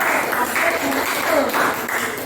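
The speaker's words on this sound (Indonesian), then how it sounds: "Iya, tepuk tangan." A group of students claps together during a school lesson, producing a fairly loud, continuous patter of hands with faint voices mixed in.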